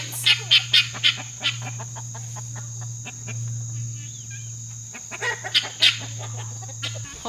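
A protective rooster and his hens in a woodland yard cluck in short repeated bursts, loud and near, over a steady background hum and chirping insects.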